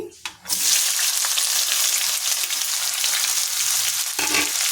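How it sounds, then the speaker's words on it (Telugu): Onions, green chillies and cumin hit hot oil with a sudden loud burst of frying, then settle into a dense, steady close sizzle that carries on to the end. "అలాగే ఉల్లిపాయలు పచ్చిమిరపకాయలు కూడా వేసుకుందామండి దీంట్లోకి"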